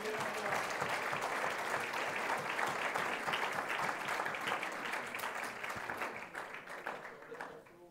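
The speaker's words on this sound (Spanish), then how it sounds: "Dale un aplauso a Cristo." A church congregation breaks into sustained applause, dense rapid clapping from many hands that fills the room and gradually thins toward the end.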